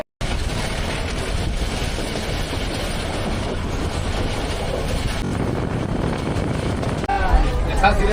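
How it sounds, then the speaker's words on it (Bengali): Train running from Shyamganj station to Jaria in a quiet rural area, a steady rumble and rattle of carriages heard from on board, with a murmur of passengers' voices. "এখান থেকে আমি ট্রেনে করে যাচ্ছি জারিয়ার।"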